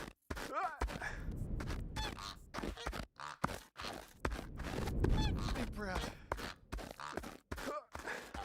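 A rhythmic goose honking in the video game Baby Steps, repeated nasal honks at a steady beat, close and prominent, with a person talking over parts of it.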